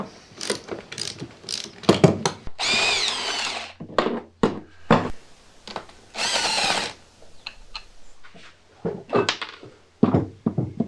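Power tool driving a 14mm socket on a Series 1 Land Rover under restoration, with short whirring bursts and two longer ratcheting runs mixed with clanks and handling knocks, close and fairly loud.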